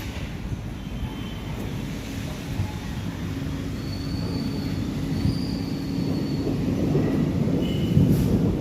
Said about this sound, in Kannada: ಗುಡುಗು ಸಮೇತ ಮಳೆ ಹೋಯ್ತಾ ಇದೆ